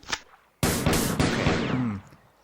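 Video game gunfire: a faint single shot, then a loud burst of several rapid rounds from close range, followed by a brief ringing tail before it cuts off.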